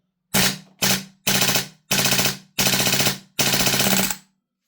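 A Vorsk VMP-2 gas blowback airsoft gun fires six sharp, loud bursts of rapid shots in quick succession, each cracking close to the microphone and cutting off abruptly, with brief silent gaps between bursts and no voices.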